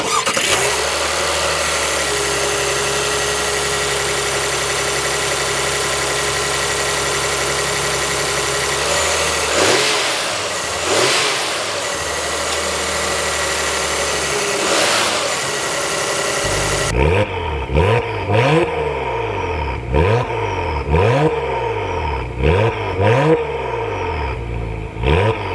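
Engine of a 2025 Acura TLX Type S with a small turbo, idling with a steady drone, then revving in a series of quick rising and falling bursts, loud and close, no voices.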